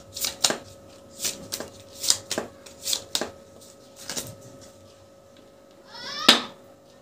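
Playing cards shuffled for a card trick, a series of crisp riffling bursts in a steady rhythm, ending with a louder flurry.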